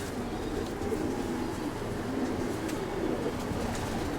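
Soft, low cooing of racing pigeons at a loft breeding stud, faint and continuous against a steady background hum, with no talk.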